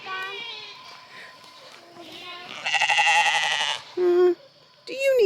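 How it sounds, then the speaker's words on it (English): Sheep on a family farm bleat loudly and close by, with one long wavering bleat and then shorter calls. Quiet talking and a voice can be heard between the bleats. "Oh, them sheep."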